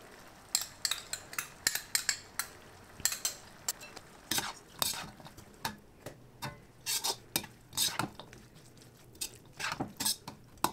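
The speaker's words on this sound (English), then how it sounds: "Put your flame on low and mix well all together." A utensil scrapes and taps against a pan while Hakka noodle sauce with sesame seeds and ketchup is stirred over a low flame, giving irregular close clinks and scrapes in quick bursts with brief pauses, fairly quiet and without talk.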